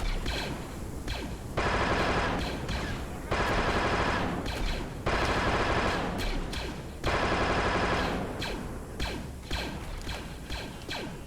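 Bursts of automatic blaster-style gunfire from a Star Wars Mandalorian campaign in an open-world shooter game, several sustained volleys cut by short gaps, loud and close, with mechanical clatter and no talking.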